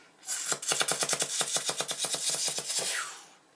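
A beatboxer imitates rapid helicopter blade chops and zapping laser shots, a fast rhythmic burst of sharp pulses lasting a few seconds.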